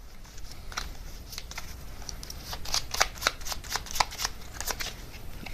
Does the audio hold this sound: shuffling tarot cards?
yes